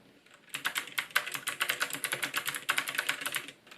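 Fast, steady clacking of keys on a CJ ENTUS K200G mechanical keyboard with 60g optical clicky switches, close up, with crisp individual keystrokes and no voices.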